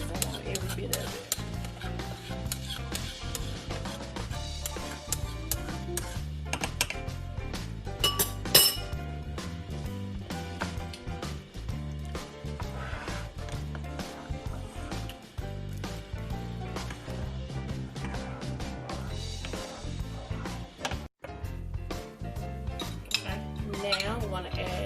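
A metal spoon scrapes and clinks against a dish while pressing seasoning into seafood for an oven bake, producing steady close clatter and tapping under a busy, cluttered kitchen background.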